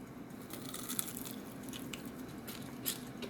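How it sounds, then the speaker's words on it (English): Crispy mustard-fried chicken wing bitten into, giving a few soft crackling crunches against a steady background hiss, close and fairly quiet with no talk. "can hear a crunch on that"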